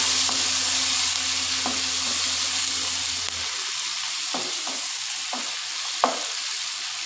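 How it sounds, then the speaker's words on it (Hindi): Chicken pieces frying with ginger and garlic in hot oil, a steady crackling sizzle with a few sharp clinks of a spoon stirring the pan, no voices. "तो फ्राई करेंगे चिकन को और अदरक लहसुन को"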